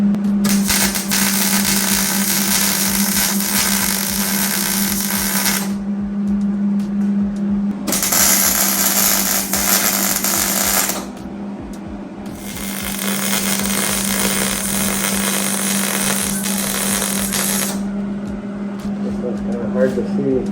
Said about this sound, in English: Just tack it or try to weld part of it?